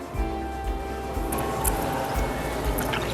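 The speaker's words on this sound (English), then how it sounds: "we will pour the clean water in other container" Clean water being poured off black sand sediment into another container during a school decantation experiment, a steady close liquid pour and trickle with small drips running throughout.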